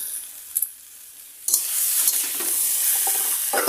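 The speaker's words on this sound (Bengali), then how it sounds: "তারপর দিলাম হলুদ গুঁড়ো, কিছুক্ষণ আমি নাড়াচাড়া করে নেব।" Spices and turmeric being stirred through potato dal in a pan: a quiet scrape, then a steady bright sizzle with light stirring strokes for a few seconds, no voices.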